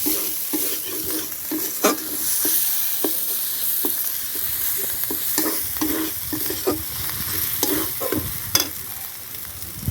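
Bomla fish masala with ginger-garlic paste being stir-fried in hot oil: a steady close sizzle broken by repeated sharp scrapes and knocks of the spatula against the pan, with no talking.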